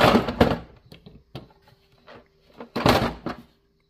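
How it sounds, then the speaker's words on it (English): A Snap-on mechanic's toolbox socket drawer sliding open and shut, several sharp metallic clunks and rattles in quick bursts, close and fairly loud, with quiet gaps between. "There is the socket drawer, guys."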